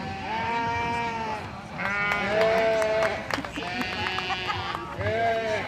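Breeding sheep at the 2025 Sheridan County Fair show ring bleat repeatedly, several loud drawn-out calls close by, with an announcer talking over the animals.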